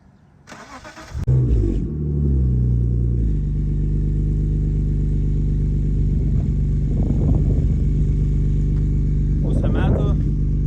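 A BMW E34 with an M54 B25 engine, cold air intake and tuned injectors, starts up close by and settles into a steady, loud rumbling idle with a couple of light revs, someone talking over it.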